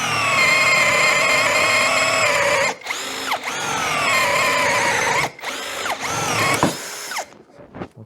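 Hasston 16V brushless cordless drill boring with a 5/8 spade bit, a loud high steady whine under load, broken by short pauses and restarts with pitch swoops as the bit bites and frees near the end.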